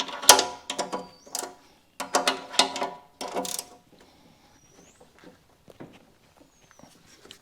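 A ratchet wrench works on 1/2 inch bracket bolts of a Cub Cadet 1872 garden tractor, close rapid clicking in several bursts, then scattered faint taps and metal handling.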